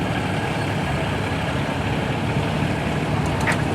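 A restored Allis-Chalmers 210 tractor engine runs at a steady, low idle, a constant rumbling drone with no other sounds breaking through.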